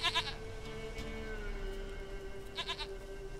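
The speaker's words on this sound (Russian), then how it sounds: "Козенька, козя милая." A goat bleats in The Witcher 3: Wild Hunt, two wavering calls, one at the start and another near the end, over a steady in-game ambient hum.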